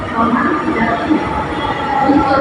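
A metro train comes into a station with a steady, broad rumble and hiss that stays loud and even throughout.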